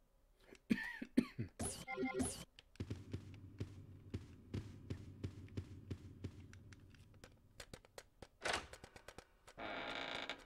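A person coughs several times in a short burst near the start, followed by quieter rhythmic thumps and a soft hum, with a louder hiss at the end.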